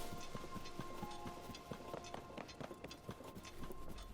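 Quick rhythmic hoofbeats of a galloping horse in Zelda: Tears of the Kingdom, fairly faint, with a steady background tone and no talking.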